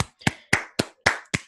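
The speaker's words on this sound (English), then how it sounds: "I'll give that a round of applause" One person clapping for a round of applause, six sharp, evenly spaced claps close up in a quiet room.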